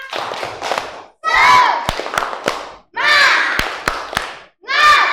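Children's voices rise together in a rhythmic chant, punctuated by a few sharp claps between the shouted bursts, loud and close.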